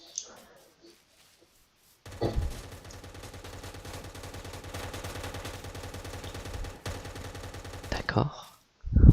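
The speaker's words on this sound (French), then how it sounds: "Bruit de fusillade." Rapid automatic gunfire from a Minecraft-style video game bursts in after a short quiet pause and rattles on continuously for several seconds, loud and close, before cutting off into a few brief knocks.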